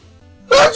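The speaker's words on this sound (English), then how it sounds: "Of course, I had to sneeze" A single sharp, loud sneeze bursts out suddenly after a stretch of quiet, low background sound.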